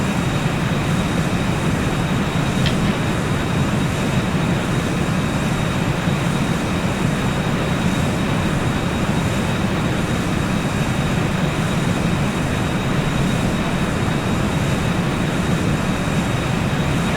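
A Challenger 300 business jet in X-Plane 11 rolls for takeoff from runway 20 right at Los Angeles, giving a loud, unbroken engine roar and rumble that holds steady throughout.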